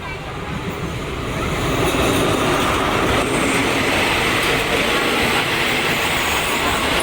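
A train pulls into Rangsit station in Thailand on the northern line, a loud continuous rumble of rolling wheels and carriages building within the first seconds and holding steady, close by on the platform.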